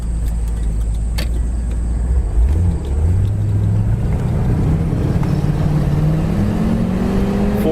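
A 1973 Cadillac convertible with a four-barrel carburetor, freshly tuned with new plugs and wires, accelerates on the road, its loud low engine rumble rising steadily in pitch throughout, with no voices.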